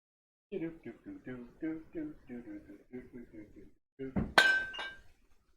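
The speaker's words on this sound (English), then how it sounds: "that was my empty bottle of tequila hitting my empty bottle of vodka" Empty glass tequila bottle knocking against an empty glass vodka bottle: a sudden sharp crash-like clink with a bright ringing tail, following a stretch of talking.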